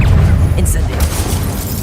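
Incendio fire spell cast in the Hogwarts Legacy video game, a loud low booming blast at the start that rolls on with rumbling burst tones, under a voice.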